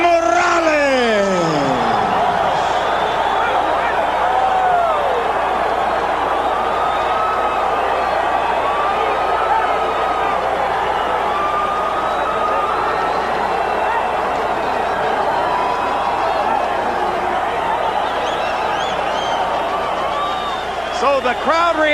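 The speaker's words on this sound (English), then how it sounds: "So the crowd reacts to the split decision in favor of Eric Morales" A large boxing arena crowd roars, whistles and shouts continuously after a split decision in the Morales vs Barrera fight, a dense sustained wall of noise with a ring announcer's voice over the top.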